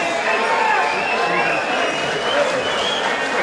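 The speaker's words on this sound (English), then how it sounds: "Big round of applause." A fight-night crowd applauds and cheers steadily for a fighter, a dense wash of clapping that holds at an even loudness throughout, with a voice talking over it.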